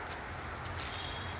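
Steady, shrill insect chorus, cicadas or crickets, droning continuously along a rainy forest path, moderately loud with a faint low rumble beneath and no voices.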